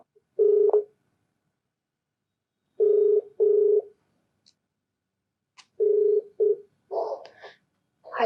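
A telephone places a call from a television advice program: short buzzing tone bursts at a steady rhythm, with pauses between them, then a couple of brighter clicks and chirps near the end, clear and close with no talking.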